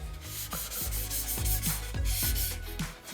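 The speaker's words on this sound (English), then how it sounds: "2000 grit sponge to remove any imperfections, to surface any problems." Hand sanding on a BMW M3 G81 Touring body panel with a 2000 grit sponge: repeated rubbing strokes, roughly twice a second, a steady close scratchy swish with soft thumps as each pass begins.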